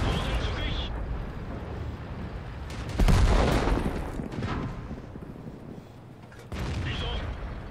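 Tank cannon fire in World of Tanks, with an enemy T-67 firing into the side: a heavy boom near the middle and another near the end, over a steady rumble of engine and battle noise.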